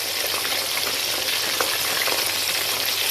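Food fries in red oil in a pot, giving a steady, dense sizzle that stays loud and even throughout, with no voices.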